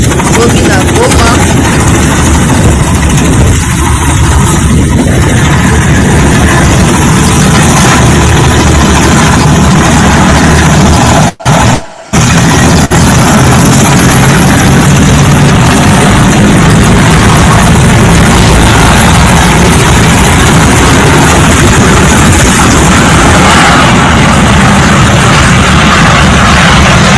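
Helicopter engine heard in the open near Goma, a loud steady low rumble and whine running continuously with a brief dropout partway through.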